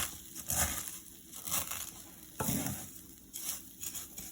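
Vermicelli noodles roasting in butter in a pan for an Indian sweet dish, giving soft sizzling with repeated stirring scrapes that come in bursts about every second, close and moderately quiet.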